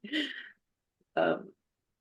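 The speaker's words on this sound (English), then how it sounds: "cough first, then jump in." Two short, separate coughs with a brief pause between them, close and fairly quiet, with nothing else around them.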